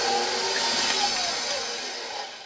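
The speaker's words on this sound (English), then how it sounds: "I'm going to attach my dough hook, and I'm just going to let this mix up for about a minute" Stand mixer with a dough hook combining doughnut dough, giving a loud, steady motor whir that holds even and then eases slightly near the end, heard alone without talk.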